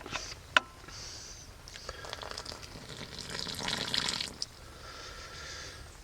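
Dirty water dumped from smoothbore flintlock barrels into a fire pit, hissing and sizzling as it hits the hot coals, with splashes and a sharp knock; fairly quiet and close.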